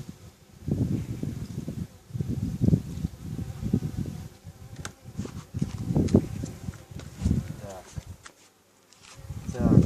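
Honeybees at an open hive during a queen inspection, a steady close insect buzz droning under the ongoing talk of beekeepers, with light rustling from handling the frames.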